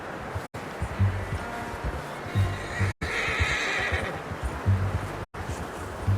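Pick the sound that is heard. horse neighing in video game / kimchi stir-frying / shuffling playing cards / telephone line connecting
horse neighing in video game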